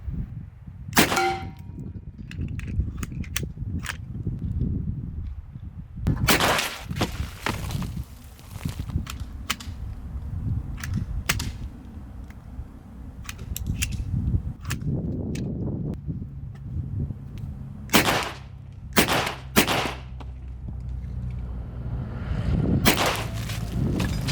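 Sharp clanging shots from an AEA Bintac T50 .50 caliber semi-auto big-bore air rifle hitting a metal can, several loud cracks spread over steady outdoor background noise.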